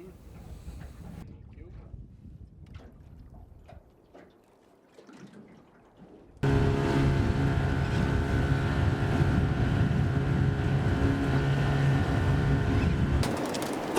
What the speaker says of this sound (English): took us in his fishing boat out beyond the reef